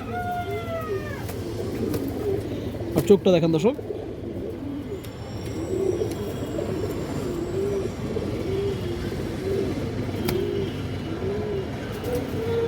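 Army-line Giribaz pigeons cooing in a loft, soft repeated low coos running beneath someone talking, with a brief clatter of movement partway through.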